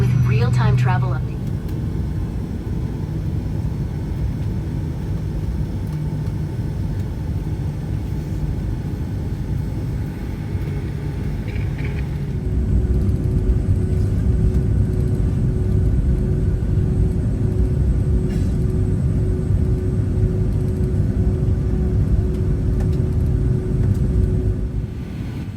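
Delta airliner taxiing toward the runway at Atlanta airport, a low steady cabin rumble and engine whir that grows louder partway through, with a voice talking over it.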